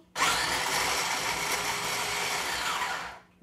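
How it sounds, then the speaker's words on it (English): A food processor mincing chopped apples whirs loudly in one continuous run of about three seconds, starting abruptly and then winding down. "we're going to put them in our food processor because we want them to be minced"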